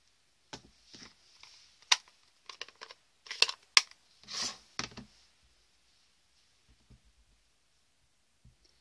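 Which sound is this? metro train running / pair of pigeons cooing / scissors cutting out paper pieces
scissors cutting out paper pieces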